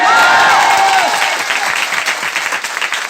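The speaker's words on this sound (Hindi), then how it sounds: "थोड़ा ताली बजा के बताइए" An audience at a business seminar claps loudly in a dense, continuous burst that starts at full strength and gradually thins and softens, with a brief tonal squeal at the start.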